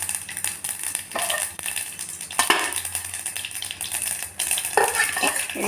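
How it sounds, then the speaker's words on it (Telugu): Mustard seeds, cumin and chillies crackle and sizzle in hot oil for a sambar tempering, a continuous close frying hiss broken by sharp popping seeds and occasional metallic clinks of a spoon against the pan. "ఇప్పుడు తాలింపు చేస్తున్నానండి."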